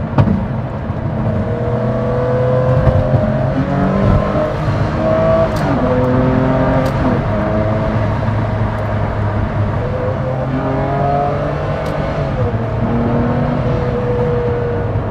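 A 2003 Ferrari Enzo is driven, its engine a loud, steady drone that rises and falls slightly as it runs, with faint high ticks and no talk over it.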